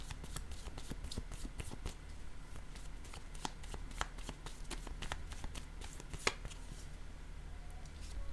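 Playing cards being shuffled and drawn close up, a quick run of crisp riffling flicks and snaps over a soft background hiss, with no talk.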